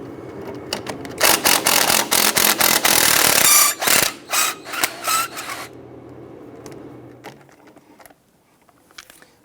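Power tool whirring in short bursts while loosening caliper bracket screws on the rear brakes of a 2011-2021 Jeep Grand Cherokee, several close, loud pulses followed by faint clinks of metal and quieter handling.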